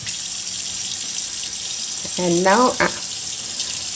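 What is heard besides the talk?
cold tap water rinsing chicken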